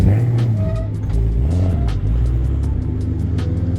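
A Nissan R35 GTR engine, fitted with carbon side skirts, hums steadily up close with a low, continuous rumble and faint shifts in pitch, heard on its own without talk.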